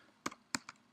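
Two quick clicks on a computer keyboard while an ARP command is typed, each a sharp keystroke followed by a softer echoing tap, faint and close with no voice.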